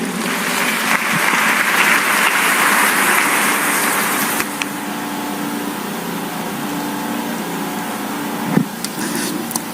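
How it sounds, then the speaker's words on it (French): A church congregation breaks into applause during a sermon, a dense broadband clatter of many hands for about four seconds that then fades into quieter room noise, with a brief clap near the end. "Acclamons la parole."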